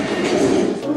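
A New York City subway train rumbles and hisses past nearby, a loud, steady mechanical roar with a faint tonal whine, briefly filling the space.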